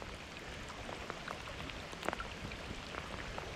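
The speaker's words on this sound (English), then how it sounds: "So we're getting October rain. Still quite clear, but it's just raining. Heavy drops." Heavy October raindrops fall beside the River Ayr, making soft scattered patters and taps over a quiet, steady background hiss.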